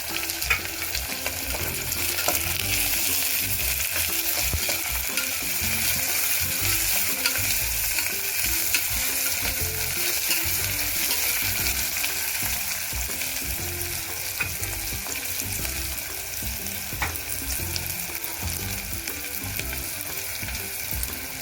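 Potato and ginger-garlic paste frying in a pan with browned onion for veg pulao, a steady, fairly loud sizzle with stirring scrapes throughout and occasional clinks, no talk.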